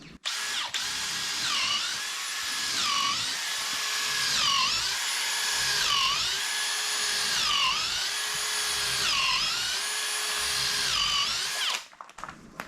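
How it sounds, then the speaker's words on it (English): A cordless drill whirs steadily, its pitch dipping and rising in repeated surges as it bores into a log for shiitake mushroom inoculation, loud and close throughout. "So you can use a cordless drill."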